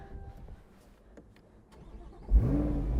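A Corvette C8 Z06 engine fires up after a quiet lead-in, with a sudden loud starter burst and flare of revs settling into a steady, strong idle.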